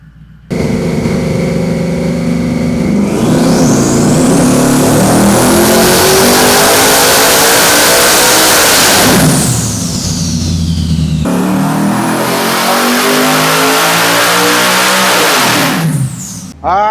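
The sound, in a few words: twin turbo Shelby F-150 engine revving on dyno pull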